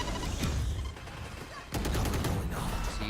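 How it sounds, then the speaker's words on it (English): Guardian rifle fire in a professional Valorant esports match, with quick loud shots cracking through a dense mix of game noise while a caster talks over it. "the Guardian's obviously just being fired through the smokes right now"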